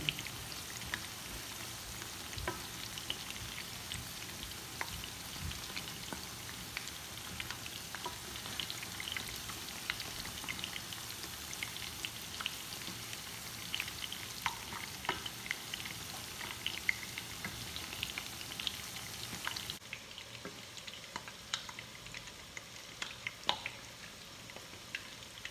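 Batter-coated crab and shrimp frying in hot oil, a continuous crackling sizzle with scattered pops that continues steadily and softens slightly near the end, no talk.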